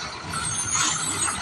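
A Maharashtra ST bus pulls in with a hissing burst of air brakes and a rumbling engine, close and fairly loud, with no talk over it.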